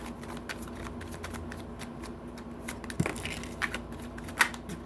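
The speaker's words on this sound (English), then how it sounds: "All right, so let's do a little shuffle." Tarot cards being shuffled by hand, a close, continuous run of soft riffling and sliding with a few sharper taps and snaps.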